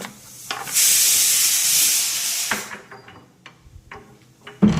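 Steam hisses loudly and steadily from rice cooking for about two seconds, then cuts off, leaving scattered soft clicks and knocks in a quiet room.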